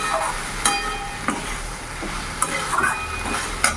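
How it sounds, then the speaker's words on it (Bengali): Okra frying in a pan on a gas stove, with low steady sizzling and scattered scraping stirs at irregular intervals, fairly quiet and close. "এবার এর মধ্যে ভালো করে আমি ভাজা করে নেব"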